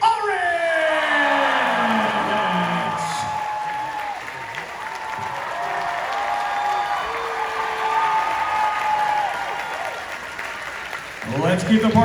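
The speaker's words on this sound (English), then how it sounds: "let's keep that applause going" Enthusiastic audience applause and cheering at a Fan Expo 2023 Scream panel, loud sustained clapping filling the hall under an amplified announcer's voice, easing briefly before swelling again at the end.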